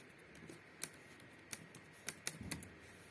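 Typing on a computer keyboard, a handful of quiet, sharp key clicks spaced irregularly over a faint background hiss, no voices.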